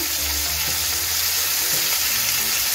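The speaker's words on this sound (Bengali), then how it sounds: "আলু আর কুমড়োটা তেলের মধ্যে ভেজে নিচ্ছি" Potato and pumpkin pieces fry in oil in a pan, a loud, constant hiss of sizzling close up with soft low rumbles and occasional stirring bumps.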